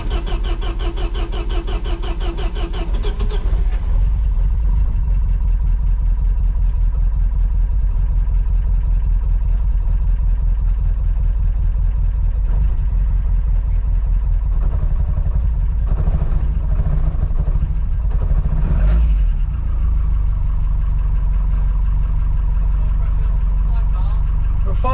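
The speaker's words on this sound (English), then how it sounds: "Time to start the car." A Vauxhall Vectra C20XE engine cranks and catches, then settles into a steady low idle with some revving, while people talk nearby.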